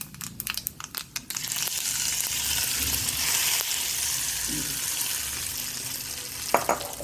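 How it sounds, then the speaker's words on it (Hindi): Spices and red chili crackle and pop as they hit hot oil for tempering a kadhi, a few sharp spatters at first, then a steady loud sizzle that continues throughout. "इसमें हम तड़का लगाएंगे"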